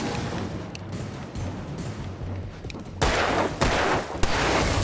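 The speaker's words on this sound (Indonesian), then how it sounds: "Kita pakai flare gun. Nah, tembak." A flare gun fired in Alan Wake Remastered, heard as a sudden loud bright burst that lifts into sustained hissing noise, with further sharp cracks following over low background rumble.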